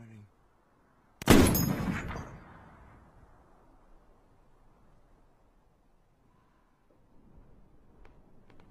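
Sniper rifle firing in a movie scene: a single loud, sharp shot with a long rolling echo and decaying tail, followed by near silence and faint background noise.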